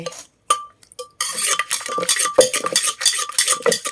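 A spoon scrapes and clinks against a bowl as fermented fish sauce is stirred into a Thai cucumber salad dressing, with rapid, uneven strokes and a few short pauses, close and busy with no voices.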